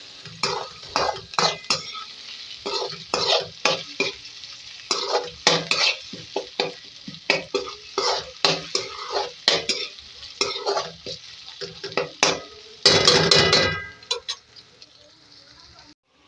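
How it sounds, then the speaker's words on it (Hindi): Garlic-ginger paste fries in a pan for an aloo baingan curry while a utensil stirs it. Repeated close scraping strokes come in an uneven rhythm over a steady sizzle, with one longer, louder burst of scraping near the end. "अब इसको डाल के नाज़रीन फ्राई कर लेंगे और लहसुन अदरक का कच्चापन ख़त्म करेंगे"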